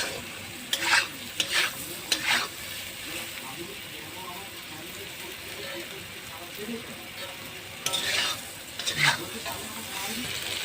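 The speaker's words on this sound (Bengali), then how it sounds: "ঝিঙে দিয়ে মশলাটা কষিয়ে নিয়েছি।" Ridge gourd being stirred with spices in a pan on a home stove: steady sizzle throughout, with several sharp scraping spatula strokes in bursts near the start and again later.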